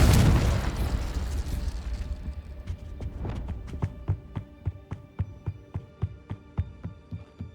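The Confringo explosive spell in the video game Hogwarts Legacy: a loud booming blast that decays over a couple of seconds, followed by a series of regular thudding pulses fading away.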